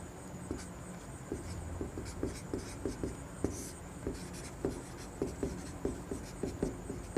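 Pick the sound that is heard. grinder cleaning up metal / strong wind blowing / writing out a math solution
writing out a math solution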